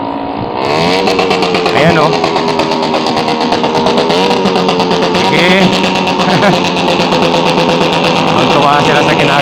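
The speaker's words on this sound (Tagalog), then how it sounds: "Ito na naman yung mga motor na maingay dito." Noisy motorcycles rev and idle on a Manila street near Baseco at night, with a loud, close, continuous engine drone and rising throttle sweeps as someone talks over it.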